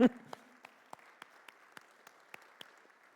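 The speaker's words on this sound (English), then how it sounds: "I think we should just give them a round of applause first for" A church congregation claps for live performers: a sharp thump at the start, then faint, sparse, evenly spaced claps heard from a distance in a quiet room.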